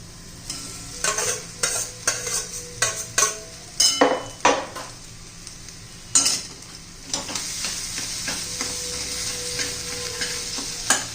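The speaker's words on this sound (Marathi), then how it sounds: "मस्त हलवून घेऊया एकदम परतून घेऊया" Boiled potato with crushed kasuri methi being stirred and sautéed in a pan for kachori filling, with a string of close, sharp spoon scrapes and clinks over a soft background sizzle, no talking.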